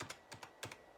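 Keys of a G-Lab mini keyboard clack under typing, five or six quick strokes in two small bursts, fairly close and distinct, with no voices.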